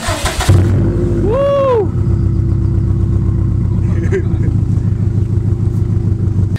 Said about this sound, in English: Last but not least is the ETS Extreme and Quiet. This is by far one of my personal top 5 favorite catback exhaust systems for the WRX STi.